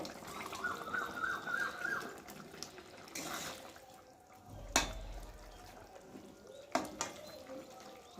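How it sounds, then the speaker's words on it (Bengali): Fish roe slides into a simmering potato curry with faint, wet bubbling and liquid sounds, broken by a couple of sharp knocks against the pot. "আর এখন আমি ডিমগুলোকে এর মধ্যে ঢেলে দেব"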